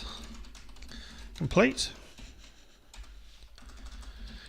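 Code being typed on a computer keyboard during a Java programming exercise, light key taps that come in clusters under a man's steady speech.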